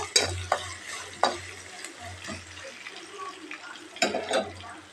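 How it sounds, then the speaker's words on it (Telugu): Onions frying in a pan until browned for a tamarind dish, a soft sizzle under sharp clanks of a spoon stirring against the pan, with a few louder scrapes spaced through. "ఇంకొంచెం బాగా ఫ్రై అవుతామండి. ఈ ఆనియన్ అంతా బ్రౌన్ కలర్ రావాలండి."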